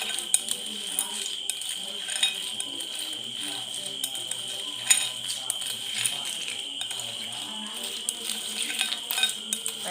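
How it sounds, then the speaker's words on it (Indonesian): Ice cubes are stirred in a container during a school melting-point experiment. The stirring makes light, repeated clinking and scraping that carries on steadily from start to finish at a moderate distance. "Pada batu es ini kita aduk terus sampai waktu menunjukkan 2 menit."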